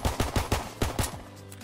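Torch variant of the P08 pistol in Call of Duty: WWII firing six sharp, evenly spaced shots in quick succession, close and crisp, then a short tail of fading echo.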